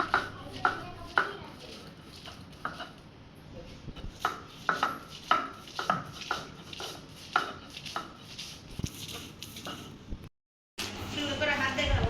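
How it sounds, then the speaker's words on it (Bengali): Soaked lentils are ground on a grinding stone in a home kitchen, the stone scraping and thudding in a steady rhythm of close, repeated strokes while a voice talks over parts of it. "দিদি হচ্ছে ভিজিয়ে রাখা ডালগুলো বেটে নিচ্ছে"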